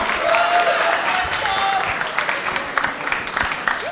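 Applause from a crowd during a Senate simulation, a steady patter of many hands clapping at moderate volume, with scattered louder claps toward the end.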